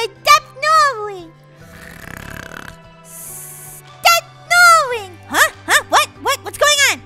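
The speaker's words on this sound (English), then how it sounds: "You snore." A Roblox character lets out one drawn-out, rasping snore in the middle of high-pitched, childlike cartoon voices that talk before and after it.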